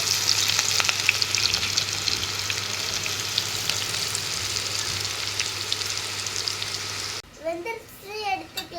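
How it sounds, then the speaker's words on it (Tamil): Onion pakoda frying in hot oil at home, a constant loud crackling sizzle with scattered pops held close for several seconds, then cutting off as a voice begins speaking. "எண்ணெய் காஞ்சிச்சு. ஆனியன் போட்டுக்கலாம்."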